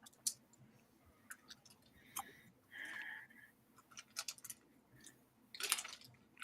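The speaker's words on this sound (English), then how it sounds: "What you munching on" Soft, irregular chewing and munching with wet clicks and squishy bursts, fairly close, over a quiet background.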